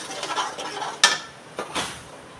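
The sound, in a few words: stirring paste into shahi paneer in a pan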